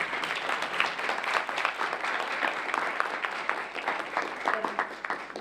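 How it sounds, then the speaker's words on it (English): Audience applause at a conference gathering, steady and dense throughout, a room full of people clapping together at moderate distance with no talk over it. "we can have a round of applause for all of our partners, all of our donors"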